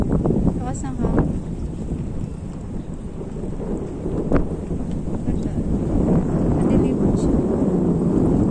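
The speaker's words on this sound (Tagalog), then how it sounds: "Lakas ng hangin." Strong seaside wind at Ma Wan Beach on Park Island, Hong Kong, roars steadily as a broad, gusty rush across the whole clip, with brief voices heard faintly beneath it.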